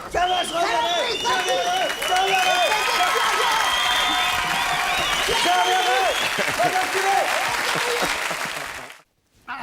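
A theatre audience applauds steadily for several seconds, a dense wash of clapping under a man's loud, agitated voice that rises above it, before everything cuts out abruptly at the end.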